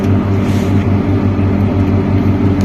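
The diesel engine of a Liebherr LR 1160 160-ton crawler crane runs at a steady idle, a loud, close, droning rumble with an even throb and no speech over it.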